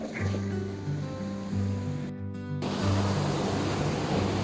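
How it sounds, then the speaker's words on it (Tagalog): Steady roaring surf at Fazayah Beach, Salalah, Oman, with waves washing ashore, a constant broad rush of water and wind noise throughout, briefly cut out for a moment. "Yung hampas ng alon niya is nakita natin yung hampas ng alon"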